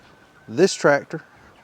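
A few broiler chickens on pasture cluck close by, two or three short throaty calls in quick succession against a quiet outdoor background.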